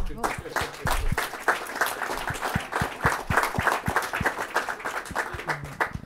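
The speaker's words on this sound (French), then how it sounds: "Vous pouvez l'applaudir." Moderate applause from an audience at a literary award ceremony for a business-and-work novel prize, distinct claps in an uneven rhythm with faint voices murmuring underneath.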